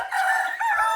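A rooster among farm birds gives one loud, close crow, its drawn-out call rising and holding before a brief second phrase, with no talking.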